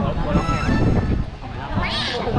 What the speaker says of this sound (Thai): อันนี้ฝั่งนี้เป็ดนะ เสียงเป็ด